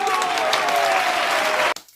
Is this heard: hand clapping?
yes